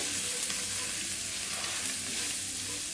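Salt, turmeric and chili powder fry in oil for mango chutney, giving a constant close sizzling hiss with faint stirring underneath and no talk.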